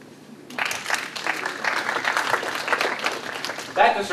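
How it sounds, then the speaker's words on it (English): Scattered audience applause at an agile software conference keynote rises after a brief quiet start, moderately loud and uneven, with some voices mixed in near the end. "That deserved applause"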